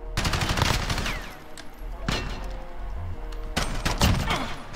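Pistol fire in the survival video game Rust, a few loud sharp shot bursts with brief gaps between them, with some faint talk underneath.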